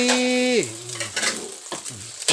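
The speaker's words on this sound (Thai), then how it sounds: "เอาทอดทีละครึ่งก่อนเนาะท่านผู้ชมเนาะอ ทอดทีละครึ่ง" Eggs frying in a pan for a Thai home-cooked meal, cooked half at a time, with clattering stirring and scraping at close range and a sizzle running underneath.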